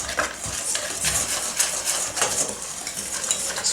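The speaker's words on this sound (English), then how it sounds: "Just whisk all that together." A wire whisk stirs dry cookie dough ingredients, flour with a pinch of salt, in a bowl, giving a rhythmic scraping, ticking sound close by with no talk.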